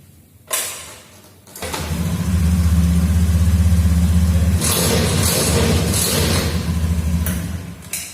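A Honda Beat FI 110cc injection motorcycle engine cranks and catches after a short pause, then idles steadily and loudly up close with a few slight rises in revs.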